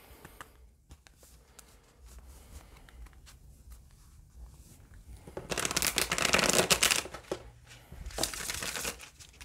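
Tarot cards are shuffled close by in two rapid, crackling bursts of riffling and slapping, the first longer and louder, after a quiet stretch of faint handling noise.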